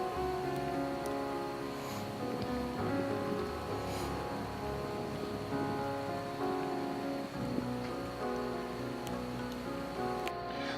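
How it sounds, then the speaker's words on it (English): Steady rain falls at a beach park along Pasir Ris, a dense, even hiss of drops on surfaces with faint patters, continuous and fairly close, with no voices. "we actually stopped for a while for the rain"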